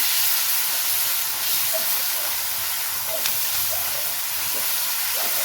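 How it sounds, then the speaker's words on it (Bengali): Chili pickle being stirred in a pan over a low flame, mostly a dense, even hiss with faint scraping clicks scattered through it, steady and close. "জাস্ট একটু লো ফ্লেমে নাড়ব।"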